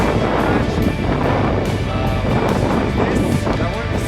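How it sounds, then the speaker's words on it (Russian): Strong wind buffets the microphone in loud, continuous gusts, with faint voices and water sounds underneath. "здесь довольно сильный ветер"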